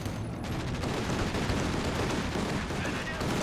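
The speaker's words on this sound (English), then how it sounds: "Another strafe from the Centaur" Strafing gunfire from a Centaur tank in a World War II strategy video game, a dense burst of rapid shots and explosions under steady battle noise.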